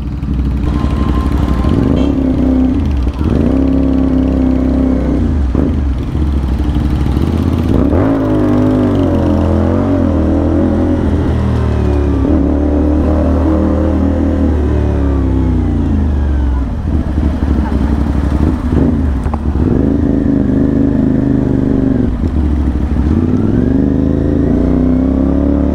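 A CF Moto 450NK motorcycle carrying two riders moves through traffic, its engine droning and rising and falling steadily throughout, close and loud, with voices talking over it at times.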